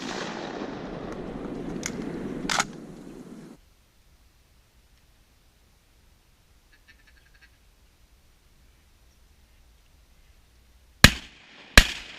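Shotgun blasts while hunting mallards over decoys in a tight swamp hole. Two sharp shots come early over rustling noise, then a long near-silence, then two very loud, close blasts in quick succession.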